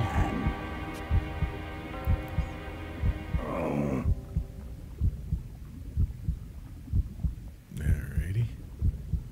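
Heartbeat from the adventure game Full Throttle pulses in a steady, regular thump throughout, alone at first under a humming game score, then joined by a brief spoken word.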